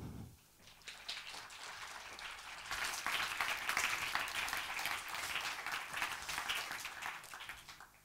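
An audience at a university three-minute thesis contest breaks into applause as a speaker is welcomed on stage, building quickly from quiet to a full, steady crowd clapping that holds for several seconds.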